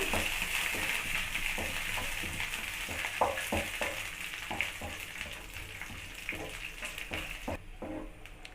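Cashews and raisins roasting slowly in ghee in a pan give a steady close sizzle with soft stirring clicks and scrapes throughout.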